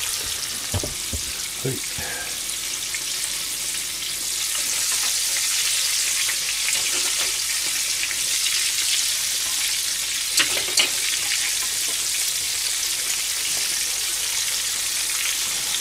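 Food deep-frying in hot oil, including chicken, wontons, fish and vegetables such as potato, lotus root, eggplant and asparagus-corn fritters, gives a continuous loud sizzling hiss with occasional faint clinks and a brief word spoken.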